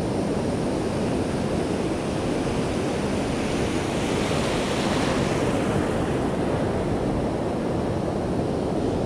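Steady ocean surf washes and breaks in the shallows off a beach during a cool north swell, a continuous broad roar with wind noise over the microphone and no voices.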